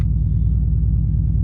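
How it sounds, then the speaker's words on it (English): Dodge Charger 392 V8 with a Tazer tuner installed, idling with a deep, steady low rumble close by, loud and even with no talk. "So now this starts the car"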